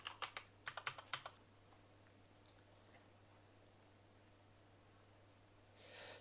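A computer keyboard typing an admin password: a quick burst of about eight close, crisp key clicks in the first second and a half, then near silence with a faint rustle, no talking.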